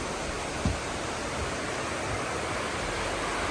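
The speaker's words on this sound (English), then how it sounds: "Waterfall right there." Broad, steady rush of a waterfall at High Falls State Park, continuous and fairly loud with a brief low thump early on, no voices.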